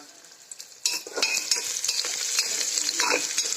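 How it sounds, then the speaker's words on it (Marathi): Onions frying in a pan with homemade masala, chilli, turmeric and coriander powder. After a quiet start, a sudden loud sizzle breaks out and keeps going, broken by scraping stirs and clinks of a spoon. "आता कांदा चांगला भाजायला आहे चांगला परतून घ्यायचा"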